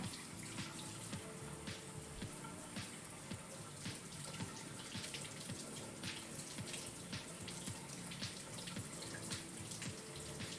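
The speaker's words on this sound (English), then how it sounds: "I'm just gonna rub them down under cold water." Cold tap water runs steadily into a sink while something is rubbed and rinsed under the stream, a continuous close splashing wash with faint handling sounds and no talk.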